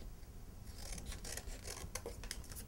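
Scissors snipping through paper for a handmade word-a-day journal, a run of close, crisp rasping cuts in quick uneven bursts over a low steady room hum.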